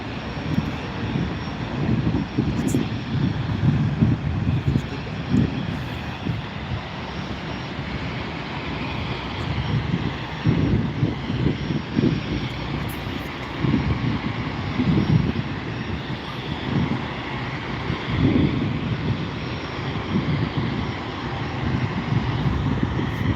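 Jet airliner passing at SNA airport, a sustained low engine rumble with rising and falling surges that holds steady for over twenty seconds, loud and close with no voices.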